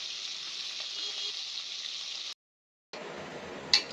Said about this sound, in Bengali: আর এক চুলায় আমি রুই মাছ ফ্রাই করতে জন্য দিলাম